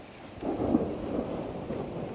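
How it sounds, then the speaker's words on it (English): A low, rolling rumble of thunder during a rainstorm, with steady rain hiss underneath, moderately loud and swelling briefly before fading back into the downpour. "Just hear the lightning, hear the thunder."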